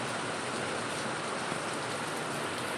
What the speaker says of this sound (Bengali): বাইরে খুব জোরে বৃষ্টি নেমেছে এখন